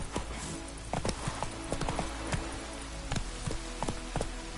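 Horse hooves clip-clopping in The Witcher 3, a steady, rhythmic run of sharp taps close by over a continuous game background hum, with no talk.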